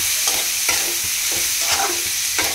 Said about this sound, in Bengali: দিয়ে ভালো করে ভাজবো